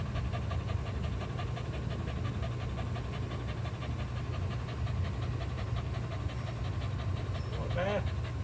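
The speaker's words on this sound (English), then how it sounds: "Some good heavy breathing." A dog pants heavily and steadily, fast rhythmic breaths close to the microphone, with a low continuous rumble underneath throughout.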